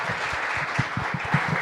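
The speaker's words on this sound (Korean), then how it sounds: "여러분 박수 부탁드립니다" Audience at a software academy recruitment information session applauds a graduate, giving steady, moderately loud clapping with soft thumps throughout.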